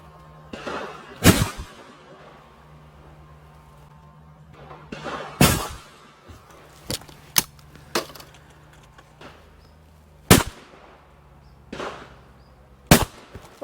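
Shotgun shots at a sporting clays shoot, sharp loud reports spaced several seconds apart, some in quick pairs, ringing out over a quiet outdoor background.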